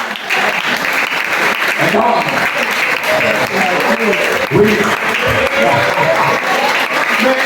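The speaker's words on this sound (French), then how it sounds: "Mais applaudissez le missionnaire." A church congregation at a Sunday service claps loudly and steadily throughout, with voices speaking and calling out over the applause.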